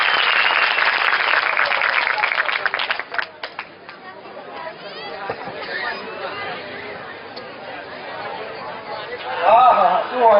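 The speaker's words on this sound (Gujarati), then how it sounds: "ફરી એક વાર જોરદાર તાળીઓ આપણે હરિસ્વામી માટે" An audience at a devotional kirtan gathering claps for Hariswami: brisk applause at first that quickly gives way to crowd chatter and babble, with voices rising again at the end.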